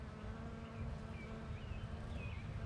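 Bees buzzing busily around fragrant garden flowers as they gather pollen, a steady close insect drone with scattered higher whines of individual bees passing near.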